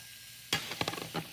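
Food hits a hot skillet being prepared for a stir fry, a sudden burst of sizzling after a quiet moment, followed by crackling pops and stirring scrapes close by.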